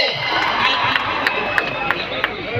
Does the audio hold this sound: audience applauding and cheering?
yes